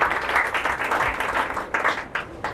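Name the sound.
applause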